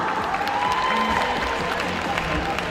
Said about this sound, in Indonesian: Kita berikan tepuk tangan yang meriah untuk Ihwan Toha